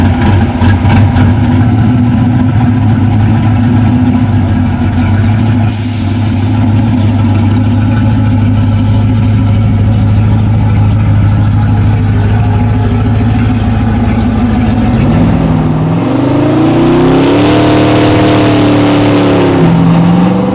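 A turbocharged LS-swapped 1968 Chevrolet C10 idles with a loud, steady, deep rumble close by, then revs up sharply near the end with rising engine pitch.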